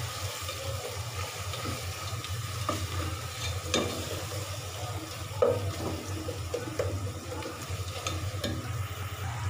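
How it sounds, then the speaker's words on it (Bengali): Chopped onion and ginger garlic paste with spices frying and being stirred in a pot for bhuna khichuri, a continuous close sizzle with scraping stir strokes and occasional knocks against the pan. "এবার ভালো মতো মশলাটা দিয়ে কষিয়ে নেব।"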